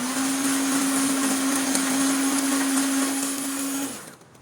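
An electric hand mixer beats eggs with powdered sugar for a cake batter, a steady loud whirring hum running for about four seconds before cutting off.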